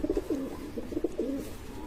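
A pigeon coos close by in a short run of soft, throaty, repeated calls over quiet background hiss.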